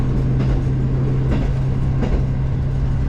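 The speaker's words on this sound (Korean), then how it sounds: "이 열차는 정차하지 않고 통과하는군요" A train running through a station on Japan's soon-to-close Rumoi Main Line without stopping, its steady loud rumble and low drone filling the scene, with faint rhythmic clatter from the wheels.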